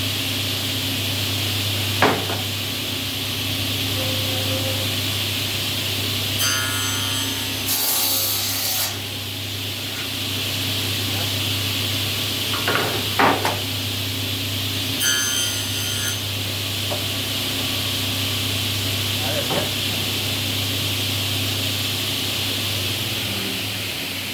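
Quiet scraping and rubbing of a scribe across wood under a steady motor hum, with occasional light knocks and brief higher-pitched rasps.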